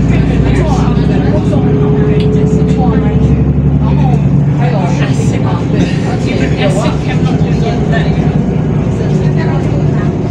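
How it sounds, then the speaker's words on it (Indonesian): Busy city street in Singapore with steady engine rumble of cars, buses and trucks, continuous and loud, with a low drone throughout and voices faintly mixed in. "ini jalanan di Singapura teman-teman"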